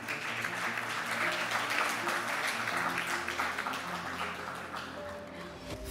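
An audience at an annual meetings session claps for the moderator, a steady sustained round of applause at moderate level with low hum and background noise underneath.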